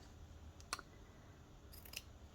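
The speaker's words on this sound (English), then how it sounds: "Use my scissors here and just trim it" Scissors trimming paper for a Christmas planner give two quick, faint snips about a second apart, close by in a quiet room.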